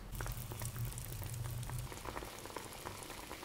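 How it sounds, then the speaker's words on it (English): Water simmers in a pan with chicken and sage leaves over medium-high heat, giving a soft, continuous bubbling and popping, faint and close, with no talk. "cook on medium high heat until it comes to a boil"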